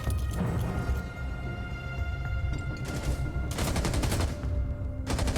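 Rainbow Six Siege gunfire in a college esports match between Marietta College and University of Toronto: loud automatic bursts crackle in rapid volleys, with longer sustained strings of shots near the end over constant game noise.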